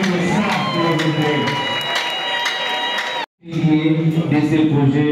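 Crowd at a political rally in the Democratic Republic of Congo cheering and applauding loudly, a dense sustained roar with shouts and whistles, broken by a brief cut before the noise resumes.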